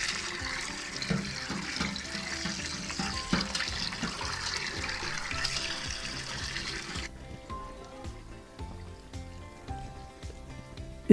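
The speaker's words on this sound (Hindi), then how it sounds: "तो 1 घंटा पूरा हो चुका है, तो अभी हम मछली को अच्छे तरीके से धो लेंगे।" Tap water runs steadily into a sink while pieces of fish are rinsed one by one, a continuous splashing rush with small knocks and handling sounds. Partway through, the flow shuts off or eases, leaving quieter drips and movement.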